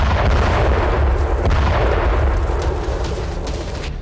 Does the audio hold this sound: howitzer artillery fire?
yes